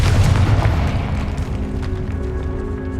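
Confringo spell explosion in the video game Hogwarts Legacy, a loud deep boom that rumbles and fades over a few seconds in a catacomb, with no talking.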